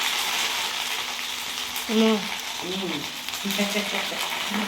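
Masala pakodi sizzle and crackle in hot oil, a steady close frying hiss throughout, while a voice speaks briefly over it in the middle.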